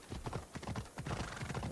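Horse hooves clip-clop steadily in Assassin's Creed Odyssey, a quick, continuous gallop-like rhythm of close, fairly loud footfalls with no talk over them.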